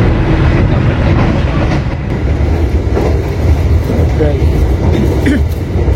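Heard from inside the Purwojaya executive-class night train as it runs straight through Haur Geulis station without stopping: a loud, steady rolling rumble with faint rhythmic wheel clatter throughout.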